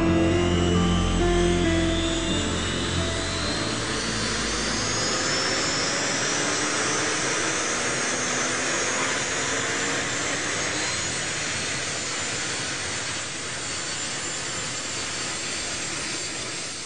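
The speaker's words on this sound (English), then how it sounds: "the twin-rotored Chinook has been in service since the Vietnam War in 1972" A twin-rotor Chinook military helicopter, a tandem-rotor heavy-lift aircraft, drones loudly and steadily throughout, a broad turbine whine and rotor roar with a slowly shifting pitch and no talk over it.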